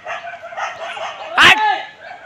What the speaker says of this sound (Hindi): ये कुत्ते भौंकने चालू हो गए